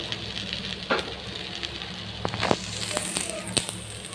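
Vegetables fry with green chillies and five-spice in hot oil, giving a soft steady sizzle with scattered crackles and occasional stirring knocks, fairly quiet throughout.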